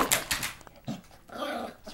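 A dachshund lets out a short run of sharp, close barks and whimpers outdoors, loud and unbroken by any voices.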